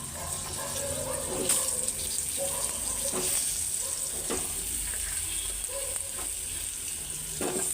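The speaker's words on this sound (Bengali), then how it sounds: "ডিম আর আলুগুলি ভাইজা নেই" Eggs and potatoes, seasoned with salt and turmeric, fry steadily in a pan with a constant bright sizzle, punctuated by occasional scraping stirs; a voice speaks faintly underneath.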